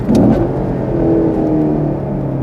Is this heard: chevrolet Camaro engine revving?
yes